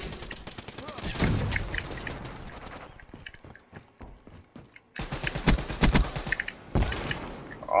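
Rapid bursts of gunfire from a Call of Duty Black Ops 3 multiplayer match, loud and close, crackle in clustered volleys with a short lull midway before resuming; a player's voice is heard talking over the action.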